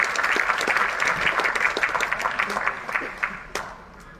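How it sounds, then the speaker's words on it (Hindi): Sustained audience applause at an honour ceremony in Panchkula for Olympic medal winners, greeting a wrestler who won silver, with dense steady clapping and a few sharper claps near the end. "तालियां तब तक बजाते रहिए"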